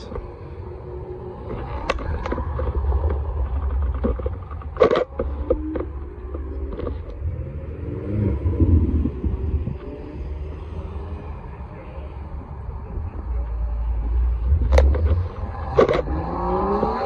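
BMW M cars pass by outside one after another as they leave a supercar festival, engines rising and falling as they accelerate, with people talking nearby and occasional sharp knocks.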